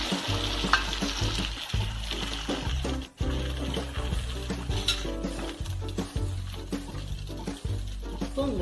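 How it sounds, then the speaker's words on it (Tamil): Egg poured into a hot pan and spread to fry, a constant sizzle with stirring and scraping sounds over a low rhythmic hum, no talking. "இப்போ முட்டை ஊற்றி நல்லா பரப்பலாம்."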